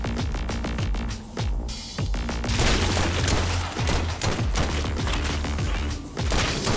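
Gunfire from a weapon in the cyberpunk roguelike game Dark Light: Survivor, loud rapid bursts of shots with booming impacts over a dense, continuous game soundscape, no voice.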